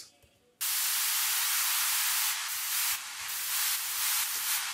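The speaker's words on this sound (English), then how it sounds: "and this is white noise." White noise sweep from a melodic techno production, a loud, steady broadband hiss that bursts in after a brief quiet start and holds with slight swells, heard alone.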